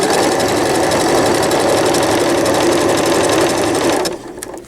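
A sewing machine stitches a cloth diaper cover with gussets in a fast, steady mechanical run of rapid needle clatter, loud and close, stopping abruptly near the end.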